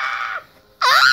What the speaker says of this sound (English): I love that scream.